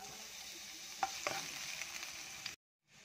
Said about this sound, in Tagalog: Garlic.